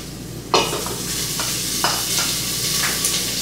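Dried beef sautéing in a pan gives a steady, close sizzle, with a few stirring scrapes and pops rising above it.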